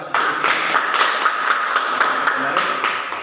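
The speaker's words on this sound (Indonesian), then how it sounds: "Semuanya beri aplaus kelompok 1" A school class claps for group 1 after its presentation. The clapping is quick, bright and fairly close, with many hands keeping an even rhythm for about three seconds, and voices are faint beneath it.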